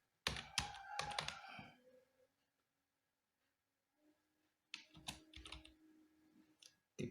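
Laptop keyboard typing a Linux terminal command (sudo dmidecode) while checking RAM, two bursts of quick close key clicks separated by a quiet pause, with a final short tap at the end.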